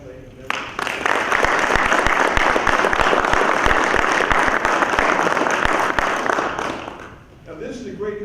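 A USARCENT audience at a military Celebration of Service event applauds the families, sustained dense clapping from a sizable crowd that holds strong for several seconds before tapering off.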